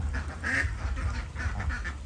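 Ducks raised beside a house quack in a short, close burst of repeated nasal calls, several birds overlapping with no voices.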